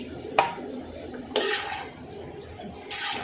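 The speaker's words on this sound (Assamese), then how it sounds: "দিয়াৰ পাছত কেৰাহীখনত ভালকৈ এইটো মিলাই দিব" Chicken curry stirred in a wok (kadai): three distinct scraping strokes of a spoon against the pan over a low background simmer, close and unhurried.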